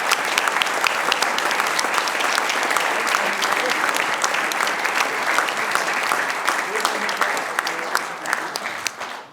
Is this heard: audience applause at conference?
yes